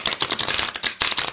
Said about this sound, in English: So overhand shuffle's pretty good.